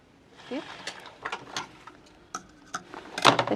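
A sewing machine stitches the fall onto a saree in short bursts of rapid mechanical clicking and ratcheting, close by, with small pauses between runs.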